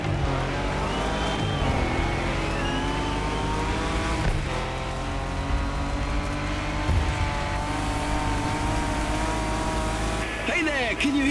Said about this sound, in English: Toyota Tacoma, esse carro é da hora.